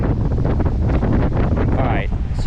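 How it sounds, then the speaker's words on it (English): Strong wind buffets the microphone at a beach, a loud, steady rushing roar that fills the whole clip, with faint surf underneath and a brief whistling sweep near the end. "it's obviously extremely windy out here"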